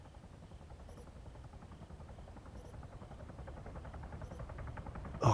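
Helicopter in the video game ARMA 3: Contact, a low rhythmic rotor thump and engine buzz that builds gradually louder as if approaching, ending in a sudden loud burst, no voices.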